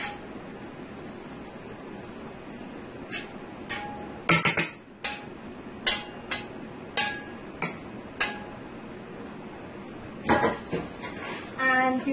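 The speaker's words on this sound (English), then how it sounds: "give this a nice toss and mix that garlic up into your potato mash nicely here" Garlic oil is tossed into mashed potato for aloo choka, with a spoon knocking and clinking against the bowl in a dozen sharp, irregular taps over a quiet kitchen background.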